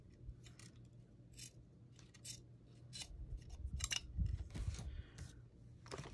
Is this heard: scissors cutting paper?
yes